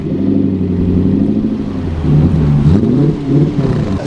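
Ford Sierra fitted with a Lexus V8, heard as a loud, low engine rumble close by that rises and dips in a few revving swells while driving off.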